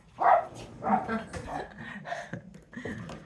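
Dogs bark and yip in short bursts at close range, several quick barks in a loose rhythm over about three seconds, mixed with excited whimpering.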